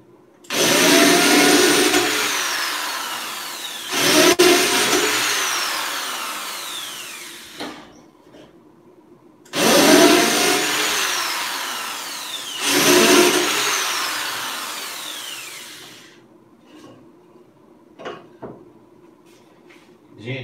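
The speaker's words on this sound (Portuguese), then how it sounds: "vou fazer o pré-furo e vou parafusar aqui" A power drill pre-drilling holes and driving screws into pallet boards in a woodworking lesson, two pairs of loud whining bursts with pauses between, followed by faint clicks and handling noises.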